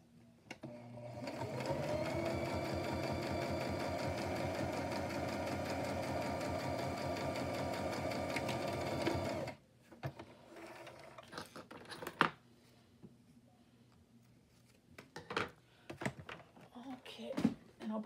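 A sewing machine runs a straight stitch on clear pocket material for a journal page, a continuous fast mechanical whirr for about nine seconds that then stops, followed by scattered clicks and handling sounds.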